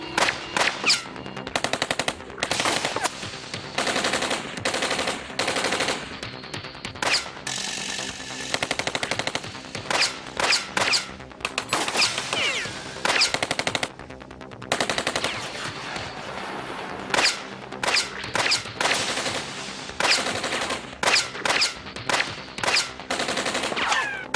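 Machine gun fire from a jungle ambush at nightfall in a Hindi drama series: loud, sustained automatic bursts rattle on and off almost without pause, broken by brief gaps, with no talk over them.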